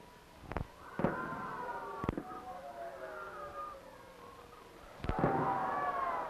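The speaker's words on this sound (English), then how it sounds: "the fireworks display went on as scheduled" Fireworks at the 1965 Negaunee centennial, set off in the evening after a rainy day: a few sharp distant bangs spaced apart, followed by descending whistling streaks and crackling, with no voices.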